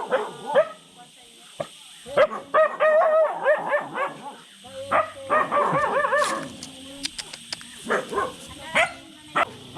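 A dog barks and yips in short bursts close by, with a whimper among them, while people talk over and between the barks in a rural farm setting.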